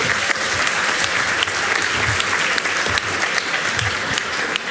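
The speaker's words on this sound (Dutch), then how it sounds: "Wel even applaus." Audience applause in a hall at a Dutch national student debate, a dense, loud and steady burst of clapping from a large crowd, sustained without pause.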